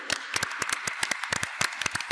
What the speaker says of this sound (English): It's almost like we're trying to summon him with claps